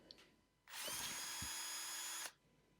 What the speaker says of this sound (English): use the new thread taps chucked up in my drill to cut threads into this little blank.